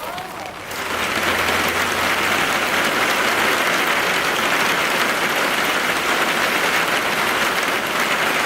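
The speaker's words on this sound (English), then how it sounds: "It is like pouring down rain," Heavy rain pours down outdoors in a loud, dense, unbroken hiss that swells in within the first second and holds steady to the end.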